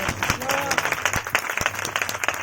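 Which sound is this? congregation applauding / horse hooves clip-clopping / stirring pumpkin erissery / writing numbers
congregation applauding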